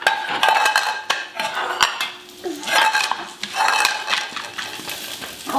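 A utensil scrapes and clinks against a metal pot of rice on low heat in irregular bursts of stirring, close by, with no talking.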